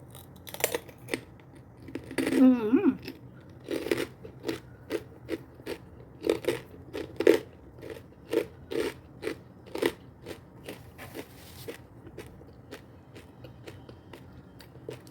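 Close, crisp crunching bites and chewing repeat in an uneven rhythm, with wet mouth clicks between them and a louder crackly crunch early on.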